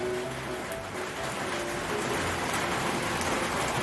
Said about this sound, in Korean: 막 비가 쏟아지네